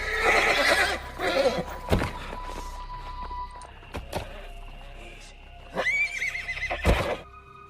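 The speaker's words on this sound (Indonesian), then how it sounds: "kuda kesayangan Putri Kasia yang diberi nama Pires saat itu mengamuk akibat guncangan tersebut" A horse whinnies loudly in several agitated bursts, with heavy thuds and shuffling in between, as if it is thrashing about.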